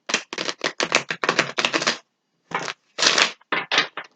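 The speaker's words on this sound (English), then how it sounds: "One more shuffle." Tarot cards are hand-shuffled in quick bursts of crisp, papery slaps, a rapid run of about a dozen, then a short silence, then several more, all close and without speech.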